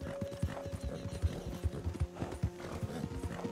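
A horse galloping in Red Dead Redemption 2, rapid rhythmic clip-clop of hooves with quick uneven beats close to the listener, no talk over it.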